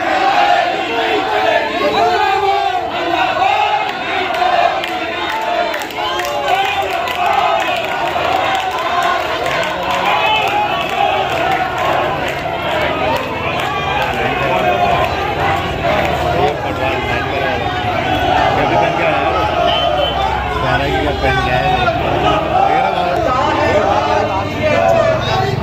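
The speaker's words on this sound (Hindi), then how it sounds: "ये अनगिनत भीड़।" A large crowd on a protest march for better health services chants and cheers without letup, dense, loud and close.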